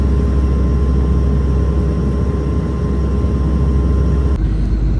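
A Sri Lankan Airlines airliner cruises near India and Sri Lanka, with a steady loud cabin roar and low engine drone, unbroken, shifting slightly near the end.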